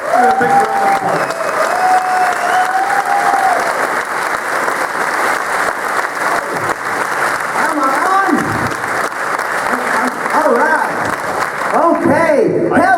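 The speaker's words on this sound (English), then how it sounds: "Please, a big round of applause." A convention audience at the Eurofurence 21 opening ceremony bursts into sustained, loud applause mixed with cheers and whoops, and voices rise again near the end.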